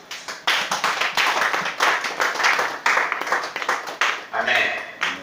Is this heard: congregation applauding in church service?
yes